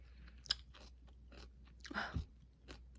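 A dog crunches and chews a piece of sweet potato up close indoors: a few sharp bites and a burst of wet chewing, with quiet pauses between.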